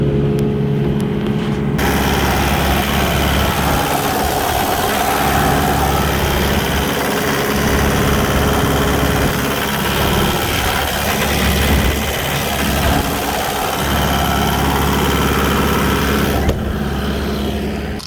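A 2014 Kubota KX080 excavator's heavy diesel engine idles steadily and loudly for the whole stretch, a constant low rumble with some mechanical clatter, no voices.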